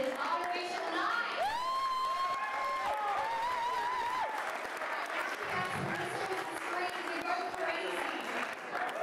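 Audience applause and cheering for a band at a live battle-of-the-bands final, a steady roar of clapping with whoops and shouts throughout, and a long whistle-like tone sliding across the middle.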